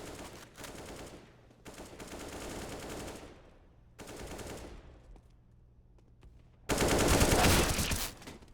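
Rapid automatic gunfire and single shots from a Counter-Strike match, coming in bursts separated by short pauses and ending in a loud sustained volley.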